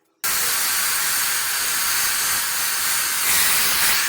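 Hair dryer blowing steadily on hair while setting wax on frizzy hair, a loud continuous close airy rush that starts abruptly and swells slightly toward the end.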